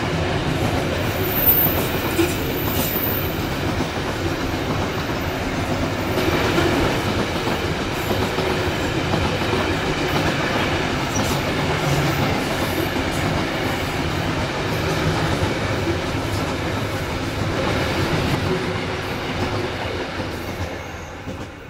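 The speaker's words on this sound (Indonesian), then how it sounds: "kereta api Babaranjang udah melintas langsung di stasiun Talang Baru" A Babaranjang freight train rumbles steadily through Talang Baru station at close range, its wheels clattering in a continuous rhythm and occasionally squealing, with no voices.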